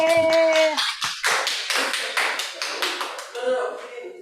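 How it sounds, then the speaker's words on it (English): Hands clap in a small room, the beats coming as distinct bursts after a brief sustained tone opens the stretch, with a voice speaking over the claps partway through at a meeting of a public-speaking club. "Let's applaud to us."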